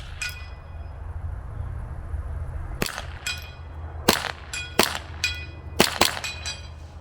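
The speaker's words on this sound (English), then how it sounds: "I'm gonna shoot some steel here. I'll throw a few down." A Ruger Charger pistol fires at steel targets outdoors, with a quiet pause and then about eight sharp, loud shots in uneven bursts, several followed by bright metallic rings from the struck steel.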